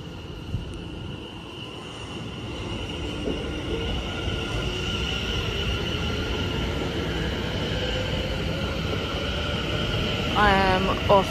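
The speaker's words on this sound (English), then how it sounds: "See, this train's going." A train rumbles steadily nearby at Liverpool Street station with a continuous droning hum, a brief squeal and clatter near the end, and faint voices in the background.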